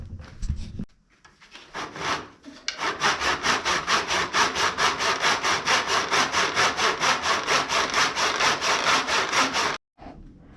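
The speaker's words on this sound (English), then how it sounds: "I'm just going to use the handsaw" A handsaw cuts through a wooden board for a serving tray with a fast, even rhythm of rasping strokes, loud and close, ending as the piece separates.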